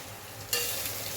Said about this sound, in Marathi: टोमॅटो कट केलेलं सगळं टाकून देते, कारण की सगळं दोन्ही सोबत फ्राय होऊन जाते.